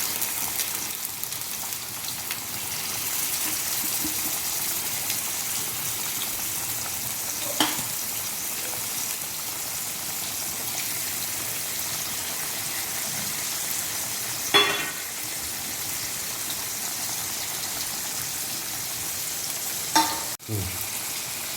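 Masala-marinated bagda fish frying on garlic in a pan makes a steady, even sizzle throughout, with occasional soft clinks and scrapes as the pieces are moved and turned.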